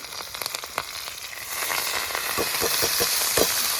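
Leafy greens hitting hot oil with chili, radhuni and garlic on high heat, a loud close sizzle that swells into a steady frying hiss with crackles and stirring scrapes.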